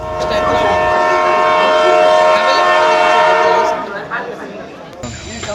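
A train at a railway station sounds its horn in one loud, steady blast lasting several seconds before it cuts off. Station chatter and voices continue underneath and afterward.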